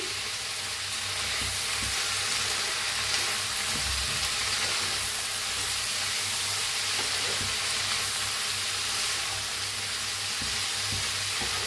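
Cabbage with soaked chana dal is stirred in a pan, giving a dense, constant sizzle and frying hiss with faint soft scraping underneath.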